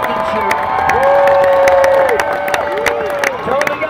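A rodeo crowd at a ranch cheers and whoops for a bull rider in the chute, with scattered claps and shouts and a drawn-out yell rising over the noise.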